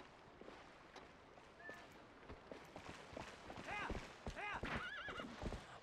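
A horse in the video game Zelda: Twilight Princess whinnies several times in rising, warbling calls over the clatter of hooves, fairly close and growing louder toward the end, with speech audible in the mix.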